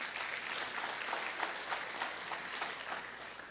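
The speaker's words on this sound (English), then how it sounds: "he deserves a big round of applause" Audience applause at a live event with an entrepreneur speaking, a steady dense wash of many hands clapping that holds at an even level throughout, with no voices over it.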